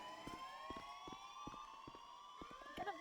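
Police siren in the GTA video game, a wailing tone sweeping up and down with repeated rhythmic clicks and taps beneath it, fairly faint and heard on its own.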